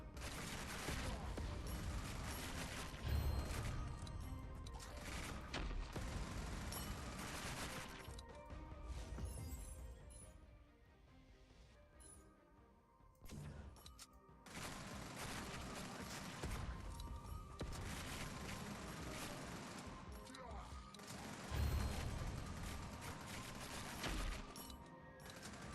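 Rapid gunfire and explosive impacts from exploding rounds in a video game demo, loud and continuous bursts with a brief lull in the middle before the barrage resumes, dense and close throughout.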